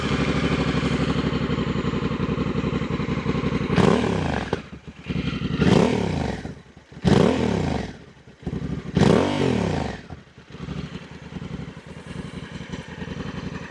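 A Honda Africa Twin CRF1100L with its stock exhaust idles, then is revved in four sharp blips, each rising and falling, before settling back to a steady idle, close and loud.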